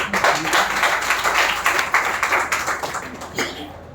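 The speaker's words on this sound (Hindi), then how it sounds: "आइए मैडम, तालियों से स्वागत कीजिए मैडम।" An audience at an International Women's Day function in an office hall claps to welcome a woman to the stage, a fairly close patter of hand claps that thins and fades toward the end, with some voices mixed in.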